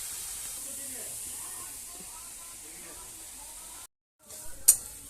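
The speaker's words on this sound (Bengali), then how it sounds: "তো এটা বেশ কিছুক্ষণ ধরে ভাজা হবে।" Grated carrots frying in a pan give a soft, continuous hiss and sizzle, broken by a brief silence and then a short clatter near the end.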